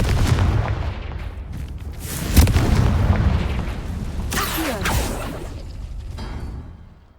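A Confringo fire spell bursts in Hogwarts Legacy combat, with several whooshing blasts and booming impacts layered over a steady rumble, the loudest hit near the middle before the noise fades out.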